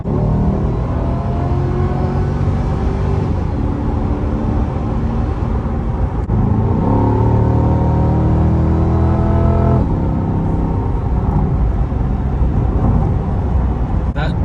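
A C8 Corvette with a dual clutch transmission pulls hard, its engine note climbing through rising revs with a quick shift midway, heard steadily from inside the car.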